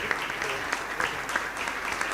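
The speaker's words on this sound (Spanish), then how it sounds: "Un fuerte aplauso pues para este hermano." Loud, steady applause from a church congregation welcoming a guest brother, dense clapping throughout with a few sharper claps standing out.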